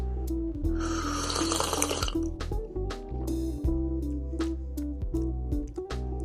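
Clear maple water poured into a glass, a bright splashing trickle for about two seconds near the start, then quieter gurgles and small clinks with a low steady hum underneath.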